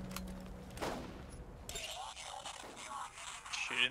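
Gunfire in the co-op shooter Borderlands, a few sharp bursts of shots mixed with game effects and scrapes, fairly faint, while players talk over it.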